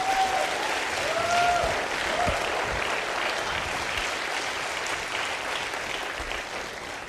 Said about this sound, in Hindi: मैं चाहता हूं एक बार तालियां संदीप जी के लिए भी हो जाएं यार